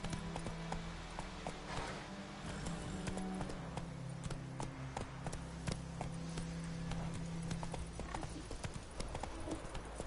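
Roach, the horse in The Witcher 3, gallops with steady, rhythmic clip-clopping hooves, fairly close but moderately quiet over a low background drone, with no talking.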